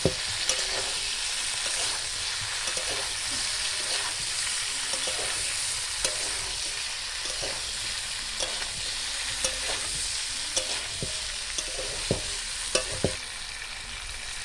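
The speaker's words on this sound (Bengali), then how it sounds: "মশলা সব কষানো হয়ে গেছে" Spices and chili powder fry and sizzle in a pan for a village-style cauliflower paneer dish. A steady hiss runs throughout, close by, with scattered clicks of a spoon stirring and no voices.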